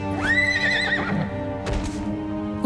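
A cartoon unicorn gives a single loud, close neigh, a rising then wavering whinny that fades out over a sustained musical background, with no talk.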